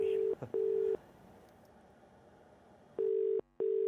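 Ringback tone of an unanswered phone call, a double burst of steady beeps that pauses and then repeats the same double pattern, with a faint low background murmur in the gap.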